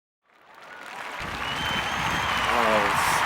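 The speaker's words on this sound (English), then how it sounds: "Dupree, how about a nice round of applause for the gentleman?" Comedy courtroom audience applause for a gentleman, beginning from silence and swelling quickly into loud, sustained clapping, with a voice and other tonal sounds briefly rising through it near the end.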